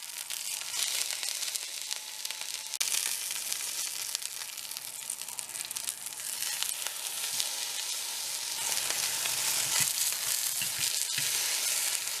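Eggplant slices fry in hot oil, giving a steady, dense sizzle that holds evenly for the whole stretch with no voices over it.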